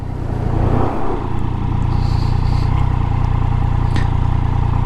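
Yamaha MT-09 motorcycle (2019) rolling at low speed under rear braking, a steady close engine drone and road rumble throughout with a faint brief clatter.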